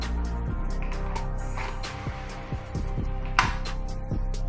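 Short, crisp plastic clicks come from a slim-fit holster as a firearm is seated and secured in it, several sharp snaps sounding close up and alone at irregular intervals.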